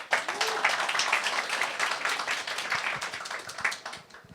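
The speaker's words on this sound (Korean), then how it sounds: "창업의 선배한테 우리 박수 한번 보내주세요" Lecture audience at a creative-convergence concert applauding together, a dense steady wash of many hands clapping that holds for several seconds before tapering off, with no talk over it.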